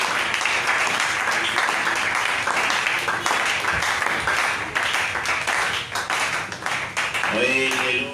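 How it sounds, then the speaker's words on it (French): Loud, continuous applause and clapping from a church congregation praising the Lord Jesus Christ, sustained steadily for several seconds with voices mixed in and a brief sung or called phrase near the end. "Toi acclamez pour le Seigneur Jésus-Christ. Nous acclamons pour le Seigneur Jésus-Christ."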